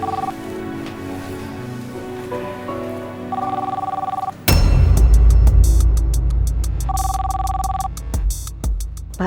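A telephone rings with an incoming call at night, repeated electronic ring tones in short bursts over background music, interrupted midway by a sudden loud dramatic crash of sound.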